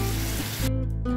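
Tomato paste sizzles loudly in a hot pan while cooking matar ghugni, a steady close frying hiss that eases and thins toward the end.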